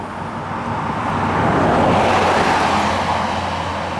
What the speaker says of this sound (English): comes another car.